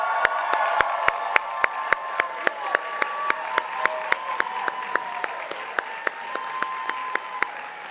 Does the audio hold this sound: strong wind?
no